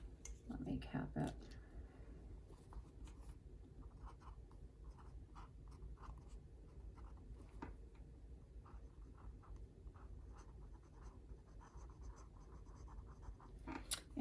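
A fountain pen with a journaler nib scratches lightly across paper, a soft faint scritch of a short stroke near the start followed by quiet rustle, close up.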